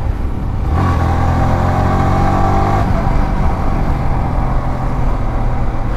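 A motorcycle with a faulty ball racer being ridden, its engine droning steadily close up with a rising whine partway through and strong wind buffeting.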